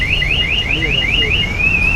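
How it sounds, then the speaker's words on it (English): A Maruti Swift car alarm, triggered by an open door, wails nearby in a rapid repeating up-and-down siren, looping several times before holding a steady tone, loud over low background rumble. "Door open, alarm is shouting"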